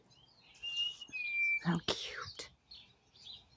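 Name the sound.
blue jay calling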